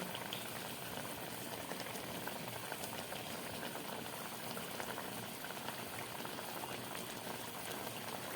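Bhola fish jhal curry boils gently in a pan, a quiet, continuous bubbling and popping that stays even and close throughout.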